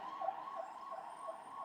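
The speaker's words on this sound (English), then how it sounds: "Ambulance gaya abhi, no?" An ambulance siren wails in the distance outside, a steady, faint, wavering tone that lingers without any talk over it.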